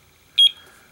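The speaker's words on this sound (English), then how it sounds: "here are the little sounds that you can actually get from the alarm clock." A color-changing digital alarm clock sounds a single short, bright electronic beep tone, clear and close, rising out of near silence.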